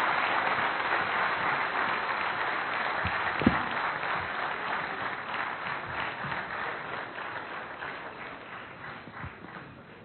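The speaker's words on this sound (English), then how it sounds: "Please give him a round of applause." Audience applause at a business summit, a sustained patter of many hands clapping at moderate distance, fairly soft and slowly fading toward the end.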